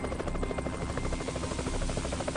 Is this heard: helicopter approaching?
yes